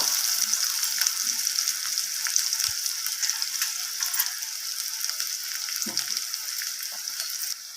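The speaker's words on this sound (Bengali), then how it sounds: "পেঁয়াজটাকে আমি এর মধ্যে দিয়ে দিলাম রসুনের সাথে আর ফোড়নের সাথে একটু হালকা ভাজা ভাজা করে নেব" Chopped onion frying lightly in oil with garlic and tempering spices gives a steady, close hiss of sizzling throughout, with a couple of faint utensil knocks and no talking.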